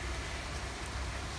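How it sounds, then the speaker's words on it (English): Heavy rain falls outside in a steady, dense hiss with no break and no voices over the short span. "Oh wow, look at that rain."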